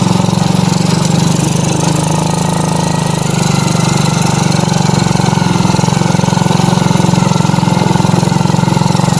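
A motorcycle engine drones steadily and loudly while riding on a road near Tuntang, a constant mid-pitched hum with a faint rattling edge and no break in the sound.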